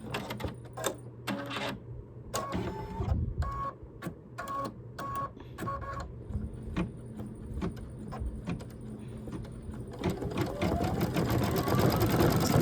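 An embroidery machine stitching a spring flowers umbrella design onto a towel, its needle chattering in rapid rhythmic bursts with brief pauses, then a denser steady run toward the end, close and loud with no talk.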